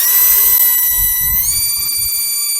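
A power drill bores into wall mortar with a steady high whine that shifts pitch slightly midway, low rumbling knocks underneath, close and loud with no talk.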